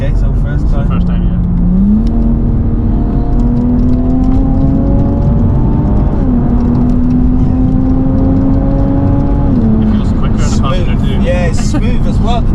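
Engine notes from a 420 BHP stage 1 tuned Toyota Supra rise and fall, climbing through the revs, holding a steady pull and then easing off, heard from inside the cabin as people talk over it.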